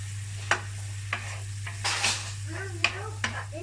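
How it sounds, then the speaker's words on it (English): A pasta sauce with soy and oyster sauce sizzles gently in a pan, broken by a few sharp utensil clinks and scrapes over a low steady hum, with no talking. "Okay, so I let it simmer for a few minutes."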